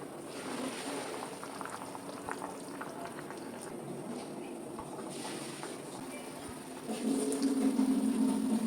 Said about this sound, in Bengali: ঝোলটা ফুটে উঠেছে, এবার আমি আলু আর মাছগুলো দিয়ে দেবো।